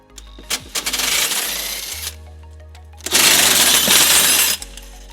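A 17mm socket on a ratchet or impact tool works the tow hook bolts loose on a 2016 Toyota RAV4 during a trailer hitch installation, giving two loud, rattling metallic bursts close by, each lasting over a second.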